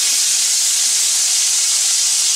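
Garlic sizzles in a pan as a marinara sauce is started, giving a steady, loud, bright hiss with no break and no one talking.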